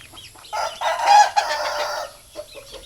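Close, loud squawking from chickens, a burst of raspy fowl calls lasting about a second and a half, with scratchy farmyard noise around it.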